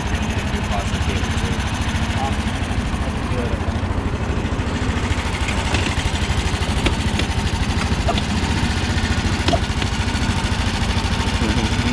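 A motorcycle engine runs steadily nearby, its low, even idling rumble holding a fairly constant level for the whole stretch.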